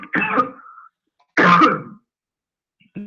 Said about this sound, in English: Got a little cough today.